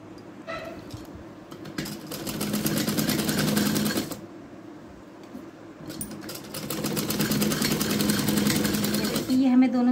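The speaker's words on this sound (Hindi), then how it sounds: "यहाँ से सिलाई लगा लेंगे।" A sewing machine stitches a folded seam on a skirt being made from a saree, running in two long steady bursts of rapid, even mechanical chatter. A short pause falls between the bursts, and a dog whimpers and yips faintly in the background.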